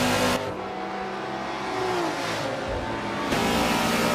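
Race cars, including a Pagani Huayra and Bugatti Chiron, roar through turns at Homestead in Forza Motorsport 7, a loud, steady engine drone with rising and shifting pitch as the throttle changes, no talking.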